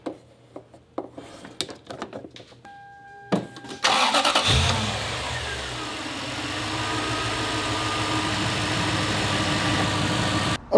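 Toyota FJ100 Land Cruiser fitted with new spark plugs cranks and fires after a few quiet clicks and rustles, then settles into a loud, steady close-up idle that runs on alone to the end.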